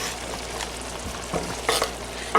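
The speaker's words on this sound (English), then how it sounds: "Now what I'm going to do is add our tomatoes to our mixture" Fresh tomatoes go into a simmering ricotta mixture for vegetable lasagna, with a steady bubbling sizzle broken by a few sharper stirring scrapes and splashes close by.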